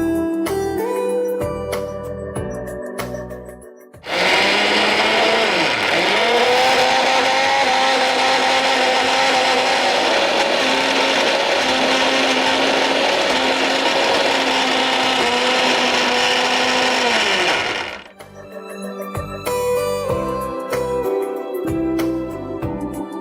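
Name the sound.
mixer grinder blending high-protein dosa batter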